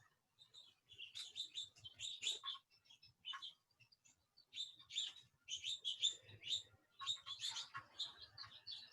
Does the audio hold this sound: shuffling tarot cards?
no